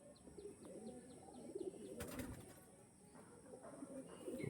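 Kalshira Andhra pigeons, females, coo softly and steadily with occasional small chirps and a brief flutter, faint and at a little distance, with a voice murmuring in the background.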